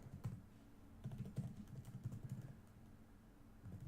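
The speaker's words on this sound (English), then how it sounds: "make sure I'm typing correctly" Fingers tap out a quick, uneven patter of clicks on a computer keyboard, close and fairly quiet, with short bursts and pauses and no talking.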